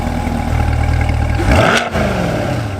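A C8 Corvette with dual-mode exhaust in quiet mode idles with a low rumble, then revs once sharply upward around the midpoint, swelling loud and close before dropping back to a deep idle.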